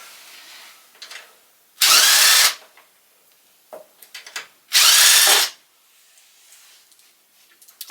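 A power tool removes the 10mm skid plate bolts on a Yamaha YXZ1000R in two loud, close whirring bursts of about a second each, with small clicks and rattles of handled parts between them.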